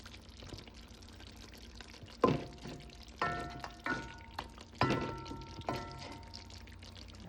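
Water is poured into a pot of Jamaican stew pork, giving a few short splashing pours and metallic clinks at close range in a quiet kitchen, with no one talking.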